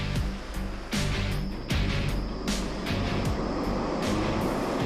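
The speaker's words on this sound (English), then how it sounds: "A wind machine imitates the deafening sound and the enormous wind of the helicopter's main rotor." A wind machine standing in for a helicopter main rotor in an emergency-helicopter test, a loud continuous roaring whoosh with rhythmic surging pulses about once a second.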